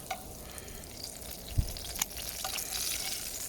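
Eggs fry in hot lard in a pan, giving a quiet, steady hiss of sizzling fat with a couple of small knocks partway through.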